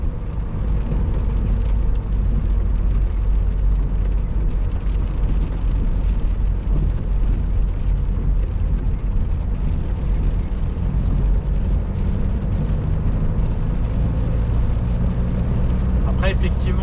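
A 2000 Renault Mégane RXT with a 1.6 16V engine, weighing around one tonne, cruises at speed with a loud, constant drone of engine and road rumble. A voice talks over the cabin noise.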